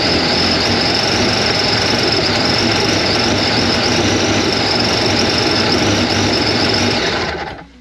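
A jet ski engine idling with a hesitant, unsteady idle, a loud, sustained buzzing drone that holds steady for several seconds and then cuts off abruptly at the end, with no talking.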